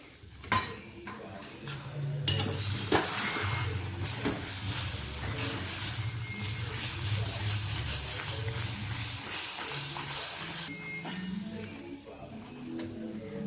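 Capsicum and besan sabzi is stirred in a pan. Metal spoon scrapes and clinks run over a steady hiss of steam and sizzle, with a few sharp knocks against the pan.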